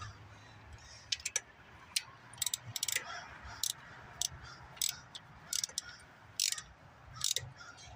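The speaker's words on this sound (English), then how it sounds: "I want the torque wrench to do the torquing down." A torque wrench tightens rocker arm bolts during a head gasket job on a 1994 Chevy Silverado. Several short, sharp ratcheting clicks come in bursts over a quiet background of faint shop noise, with no voice.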